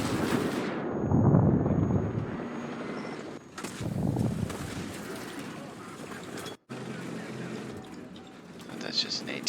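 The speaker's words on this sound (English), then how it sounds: "That's just an AT gun." An anti-tank gun fires in the War Thunder tank game, with sharp booming blasts and crackling impacts over dense rumbling battle noise, up close and loud.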